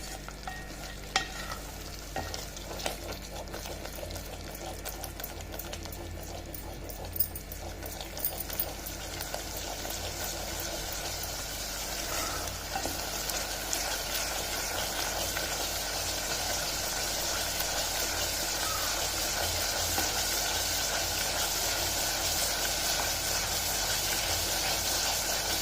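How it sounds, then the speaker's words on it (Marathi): Misal gravy sautés in hot oil in a pan, a steady sizzle running under repeated scraping and stirring strokes that continue without a pause and grow slightly louder toward the end. "आपल्याला हे तेल सोडेपर्यंत छान परतायचं आहे"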